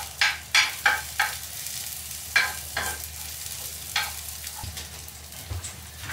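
Mackerel miso with chili pepper is stir-fried in a pan: a quick run of close scraping strokes, then a few spaced ones, over a low continuous sizzle, with no talking.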